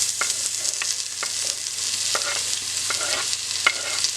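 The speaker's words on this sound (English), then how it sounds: "you start frying the onion in the olive oil" Onion and garlic fry in hot olive oil with a continuous bright sizzle, punctuated by a steady series of scraping stir strokes from a utensil in the pan.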